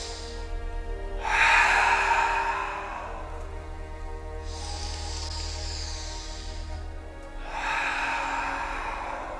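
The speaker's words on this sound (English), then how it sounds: "Breathe in." Long, deep inhales and exhales through the nose during a guided breathwork and yoga flow session, three slow breaths heard close and alone, each swelling steadily and lasting a couple of seconds.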